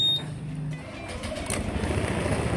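A Honda Click 150 keyless scooter engine starts with a brief whir, then settles into a faint, low, steady idle rumble, heard close and without talk.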